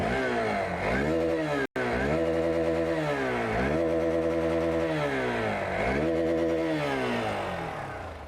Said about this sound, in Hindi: तो कुछ इस तरह से ये बाइक जो है साउंड करती है।